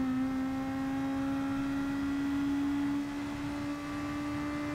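A Super GT race car engine in Gran Turismo Sport at Tsukuba, a steady loud high-pitched whine holding a sustained pitch with no talking over it.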